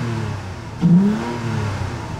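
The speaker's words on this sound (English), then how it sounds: "All right, I'm gonna rev it." A Toyota Tacoma fitted with a K&N cold air intake gives one short rev, the engine note swelling quickly then easing back into a steady idle, close and alone.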